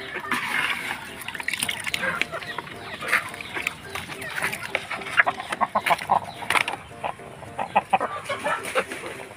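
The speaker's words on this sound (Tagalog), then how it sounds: "Ayan ang manok natin. Malalaki." Chickens cluck and chatter busily throughout, a dense, close flock of short calls with occasional louder squawks.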